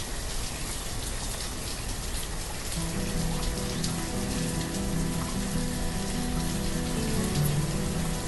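Steady, dense rain falls in the video game Banished as an even, continuous hiss of drops, with a low musical tone fading in partway through.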